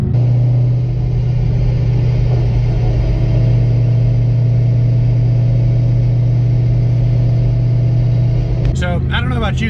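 Steady low engine drone and road rumble inside the cabin of a Ford Shelby GT500 on the move, before sound deadening, loud and unbroken, with a brief burst of other noise at the very end.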